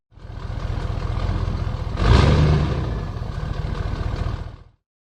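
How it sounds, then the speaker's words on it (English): A pickup truck drives past with a steady close engine drone and tire rumble that swells to a peak midway, then fades out, with no voices. "pickup truck,"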